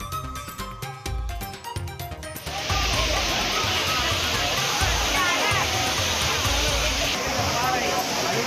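Courtallam waterfall in Tamil Nadu, where rocks broke loose and stones fell, roars with a dense, continuous rush of falling water. Before the roar takes over, there are a couple of seconds of mixed broadcast sound.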